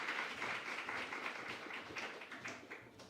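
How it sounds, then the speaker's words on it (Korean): A church congregation claps to welcome the pastor, a moderate, fairly distant spread of applause with scattered individual claps, fading slightly toward the end. "목사님 박수로 맞이해 주시기 바랍니다"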